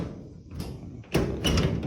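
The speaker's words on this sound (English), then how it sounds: "These doors, they close perfect." A VW car door swings shut with a firm, solid thud, then a second closing sound follows close after, both near and clear against faint background.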